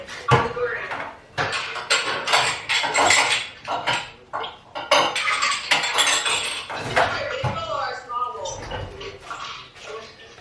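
Bowls and dishes clatter and clink in a kitchen as one is pulled out, loud repeated knocks and scrapes of crockery and cutlery, with people talking throughout.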